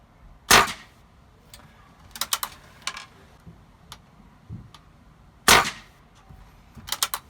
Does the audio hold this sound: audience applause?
no